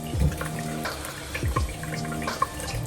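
Water splashes at a bathroom sink as a face is rinsed, with a few distinct splash bursts over a steady tap-like wash, close and fairly quiet.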